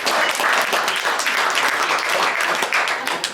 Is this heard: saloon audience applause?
yes